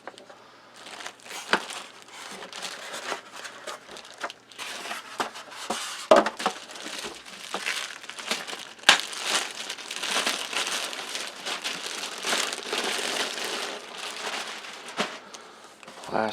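Plastic packaging crinkles and rustles continuously while a Crosley Cruiser Plus portable turntable is unboxed, with close, dense crackling that swells and fades in bursts and sharp crunches throughout.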